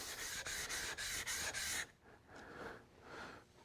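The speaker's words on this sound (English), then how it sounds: "This is a lapping plate, and it's actually the same grit as the stone, so they're 400." A 400-grit lapping plate is rubbed back and forth on a matching 400-grit knife sharpening stone, giving close, gritty scraping strokes in a quick regular rhythm, then slower, softer strokes.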